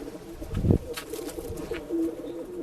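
A pigeon gives a single low, throaty coo about half a second in, close by and fairly loud, then a quieter rustling hum of other birds fills the rest of a pigeon breeding and sales loft in Bangalore.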